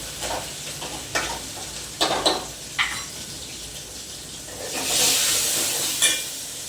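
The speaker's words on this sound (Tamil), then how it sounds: "சாம்பார் வெங்காயம் போட்டுக்கிறேன்." Sambar onions drop into hot oil with a few sharp scraping stirs, then a swelling hiss of sizzling rises near the end, close and moderately loud with no voices.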